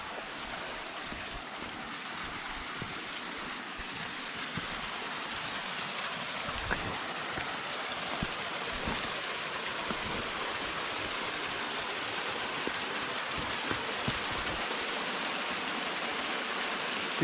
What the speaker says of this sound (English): That waterfall right there makes this all worth it.